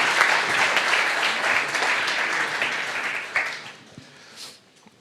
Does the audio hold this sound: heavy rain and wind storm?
no